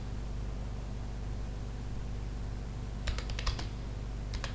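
Computer keyboard typing of a Google search, two short bursts of clicky keystrokes over a steady hiss of background noise, with no talking.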